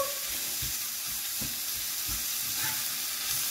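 Onions and leeks frying and caramelising in a pan for a quiche, a steady soft sizzle with occasional stirring scrapes, close and alone.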